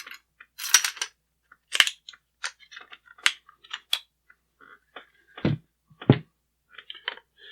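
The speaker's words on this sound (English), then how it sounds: "Now we're going to install the operating rod and recoil spring." Metal parts click, snap and slide as an operating rod and recoil spring are fitted into a Rock River Arms LAR-PDS rifle, a series of sharp, close, separate clacks with quiet gaps between them.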